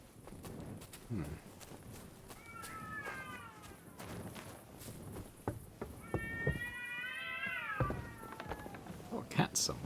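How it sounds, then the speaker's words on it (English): A cat in Kingdom Come: Deliverance 2 gives two drawn-out meows a few seconds apart amid ambient game sounds and footsteps, with a voice speaking around them. "Oh, a cat somewhere."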